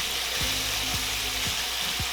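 Bacon frying in a pan, a loud, dense crackling sizzle close by, with several low scraping knocks as the strips are moved around.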